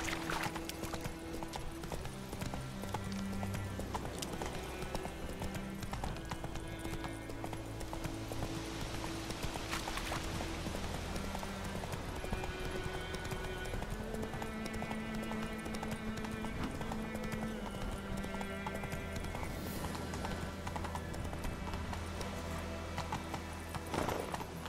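Hooves of the horse Roach clip-clop at a steady pace in The Witcher 3, with occasional neighs over a layered game soundtrack, and no talking.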